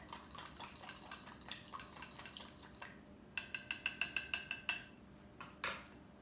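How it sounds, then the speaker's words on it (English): A wire whisk beats a butter mixture with orange zest in a bowl, rattling in quick metallic scrapes and clinks, first irregular, then a fast, even run of loud strokes before a few final taps. "I'll use my wire whisk."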